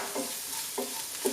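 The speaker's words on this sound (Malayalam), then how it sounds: "ഈ മസാലകളെല്ലാം കൂടി ഇട്ടിട്ട് ഒന്ന് വഴറ്റുക" Spices sautéed in a pan for ivy gourd masala: a soft steady sizzle broken by three brief scraping stirs of a spoon, close and quiet, no voices.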